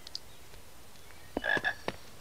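A chocolate frog croaking in the Harry Potter and the Philosopher's Stone video game: a few faint, short croaks and chirps, sparse and quiet, with one brief two-note call in the middle.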